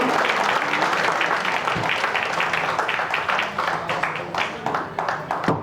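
Loud, sustained audience clapping welcomes a guest onto the stage at a state conference of a Telangana road transport corporation association, many hands together, fading slightly toward the end.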